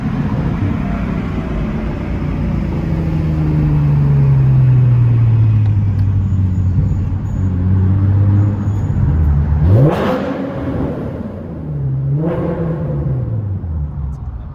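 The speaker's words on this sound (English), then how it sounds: "So we got the exhaust on, and we're gonna go take it on a little test ride." A Nissan Z with a new Tomei exhaust drives past on a test ride, its engine droning steadily and rising as it passes close, then a second revving pass follows; no talking.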